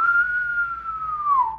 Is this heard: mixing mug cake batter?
no